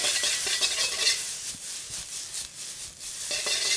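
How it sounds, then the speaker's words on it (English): Ginger and carrot stir-fried in a wok for sweet and sour sauce, a steady scraping, rustling stir with faint sizzle and light utensil contact against the metal, close and continuous with no talk. "Give that a good stir fry."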